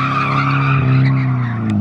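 Cars drifting at a track give a loud, sustained tire screech layered over droning engines, close and continuous.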